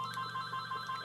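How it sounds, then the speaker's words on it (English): A mobile phone rings with a steady electronic tone, the pitched pattern repeating evenly for a brief moment, fairly clear and close with no voices over it. "that's my phone ringing"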